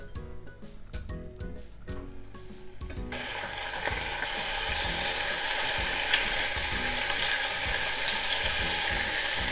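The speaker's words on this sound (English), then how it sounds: "I'm going to put in some sesame oil. And then I'm going to pre-cook the ham." Ham hitting sesame oil in a hot pan: a few clacks of handling, then a sudden loud, steady frying sizzle that fills the rest, close and without talk.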